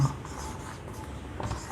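A pen or marker writes an equation during a math lesson, a soft continuous scratching close by.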